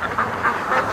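Ducks swimming on a lake quack in several quick, nasal calls, fairly close, over a constant rumble of wind or water.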